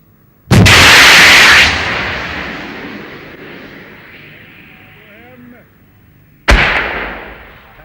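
A Bofors anti-tank missile launches with a loud blast, its roar trailing off over several seconds during a six-second flight toward a main battle tank fitted with ERA modules about 1,270 meters away, then a second sharp impact burst.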